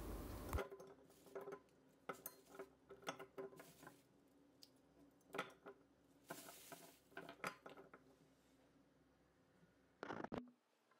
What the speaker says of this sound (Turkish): dolmaları dikkatli bir şekilde tencereye dizmeye devam ediyorum